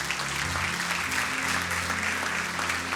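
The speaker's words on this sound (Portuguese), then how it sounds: "E eu quero que você aplauda isso." Church congregation clapping together in a continuous, even applause over a low background hum, sustained and fairly close throughout.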